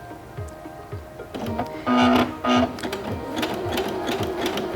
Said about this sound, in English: step on the foot control to begin sewing